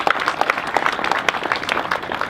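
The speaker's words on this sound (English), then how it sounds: "So give yourselves a round of applause" A crowd at the Ogden Exchange Building ceremony claps in a short, fairly close round of applause, with individual hand claps standing out and a faint voice in the mix.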